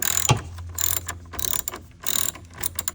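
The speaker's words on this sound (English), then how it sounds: "You'll just loosen it so that you can free it from the post. 10 millimeter." Ratchet wrench clicking as it loosens a 10 mm battery terminal nut on a 2021+ GMC Yukon, several close, crisp bursts of rapid pawl ticks separated by short pauses, with no talking.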